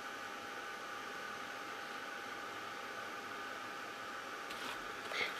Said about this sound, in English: If you've got a heat gun that really blows out like a hairdryer